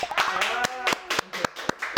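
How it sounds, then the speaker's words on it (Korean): A few people clap in a dermatology clinic in Cheongdam-dong, with sparse, uneven claps that start and stop over a spoken voice. "박수 한번 나와야 되는 거 아니야?"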